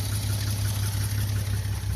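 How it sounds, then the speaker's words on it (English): An older car whose water pump is built onto the back of the generator idles steadily, with a low, even engine rumble and no talking. "She runs, idling."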